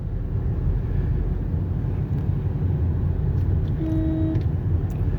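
A Tata Harrier drives during a driving lesson: a steady, low engine and road rumble from inside the cabin, with a faint brief tone near the end.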